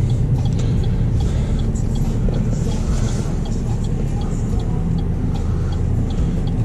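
A car drives along in bad wintry weather, its engine and road noise forming a steady, close, loud rumble with no break throughout.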